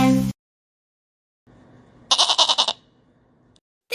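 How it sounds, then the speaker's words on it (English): A goat bleats once in a quick wavering burst, loud and close, after a short silence, with a clipped voice at the very start and end. "This is a goat."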